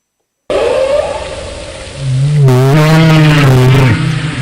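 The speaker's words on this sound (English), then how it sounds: "how do you even go to sleep at night when you don't have your whale sounds?" Whale vocalizations come in a loud recording, first a long tonal moan, then layered rising and falling calls over a deep sustained drone, all without any talking.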